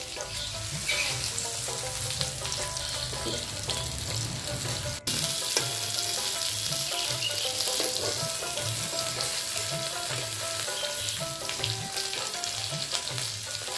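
Pumpkin-leaf fritters made with dried fish sputter in hot oil over low heat, a steady close-up sizzle that fills the whole stretch, with faint stirring underneath and one brief sharp tap partway through.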